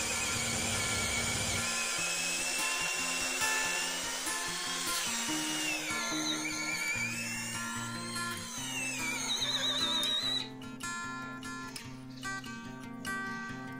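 A Total TDLI12325 12 V cordless drill with a 10 mm bit bores into mahogany wood, whining steadily with shifting pitch as the bit bites, then rattling as it breaks through near the end, close and loud.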